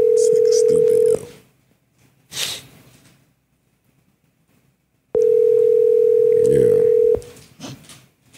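Telephone ringback tone during a call, two long steady tones separated by a quiet gap, loud and clear, with faint breathing and noise between.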